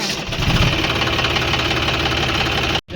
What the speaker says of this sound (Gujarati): મારા કાકા આવી ચડ્યા છે ટ્રેક્ટર ઉપર